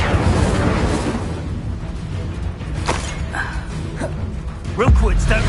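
An Incendio fire spell in Hogwarts Legacy roars as a sustained, whooshing burst with rumbling low end, followed by scattered sharp impacts and a heavy thump near the end, while a voice talks over it.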